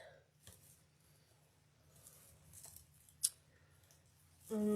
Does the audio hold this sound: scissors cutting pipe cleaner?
yes